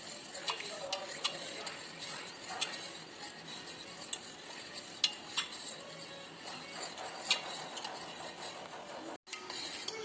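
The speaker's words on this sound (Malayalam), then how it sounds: "നന്നായിട്ട് ഇളക്കി കൊടുക്കുക." A spoon stirs a pot of heated milk with four tablespoons of vinegar added for homemade mozzarella, making soft scraping and clinking against the pan, steady and close, with no talk.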